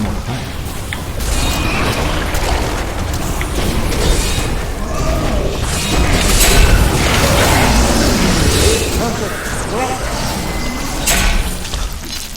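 Fire attack explosions from a Witch Doctor in Diablo III fill the mix with a dense, continuous roar of booms, crackles and mechanical clatter, loud and sustained throughout, with faint voices under the game sound.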